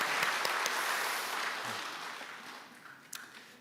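A church congregation at a Sunday afternoon service applauds in thanks to a visiting pastor, a dense wash of clapping that starts full and slowly fades away over a few seconds.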